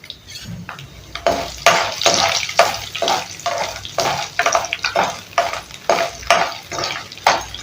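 Urad dal, dried chillies and garlic frying in hot oil for kara chutney, a loud close sizzle broken by a rhythmic series of stirring scrapes, with no voices.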